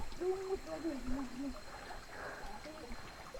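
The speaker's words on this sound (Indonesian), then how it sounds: "Nah ini kita ketemu sungai." A river on the trail to Kawah Ratu crater on Mount Salak, its water rushing and trickling steadily close by, with a brief voice speaking early on over the flow.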